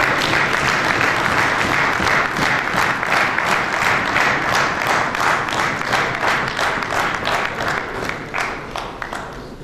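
Sustained, loud applause from a banquet audience at a district convention, dense steady clapping that holds for several seconds and slowly thins toward the end as a guest is welcomed.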